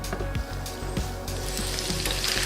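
Onion and potatoes sizzle and fry in a pan, a steady close crackle with soft periodic clacks of stirring, no voices.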